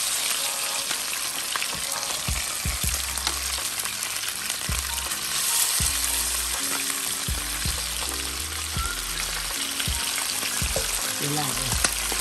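Turkey wings fry skin side down in a hot pan with a loud, continuous crackling sizzle, close up, while occasional low thumps and clatter sound from the pan and kitchen.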